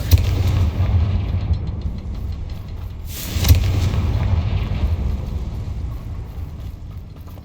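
Confringo blasting-spell explosions in Hogwarts Legacy: a continuous rumbling roar with one sharper blast near the middle, loud and close.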